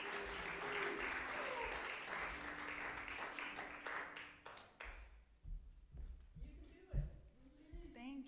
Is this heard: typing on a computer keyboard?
no